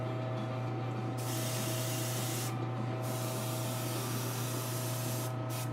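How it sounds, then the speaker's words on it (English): An airbrush spraying mahogany paint onto a custom action figure, a loud steady hiss that cuts in and out in short bursts over a constant low compressor hum. "I'm just spraying a little mahogany on here, just to make it a little bit brownish tint."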